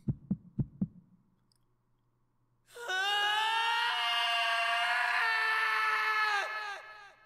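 A long, loud, sustained scream from a character in the video game 999: Nine Hours, Nine Persons, Nine Doors rises abruptly after a few soft thumps, holding steady for several seconds before cutting off.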